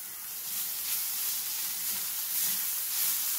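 Steady hiss of chicken pieces, already cut and cooked, sizzling as they hit frying masala in a pan, an even close crackle with no talking.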